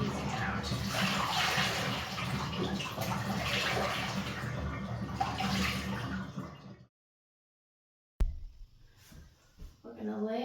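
Wet squishing and dripping as water is squeezed by hand from a soaked knit shawl, steady and close for several seconds, then silence, then a quieter stretch with faint speech.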